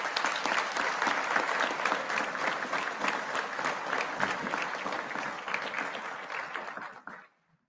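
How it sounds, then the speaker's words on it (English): Sustained, dense applause from an audience at a law enforcement training center graduation ceremony for a basic training class, steady for several seconds before tapering off abruptly into silence near the end. "So everyone give her a round of applause."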